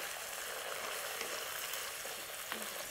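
Shallots sautéing in a pan give a soft, steady hiss of frying, faint and even throughout, with no distinct stirs and no talking.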